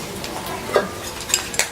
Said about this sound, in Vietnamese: Để vậy đảo lại cho nó giòn. Bắt đầu mình đảo tiếp.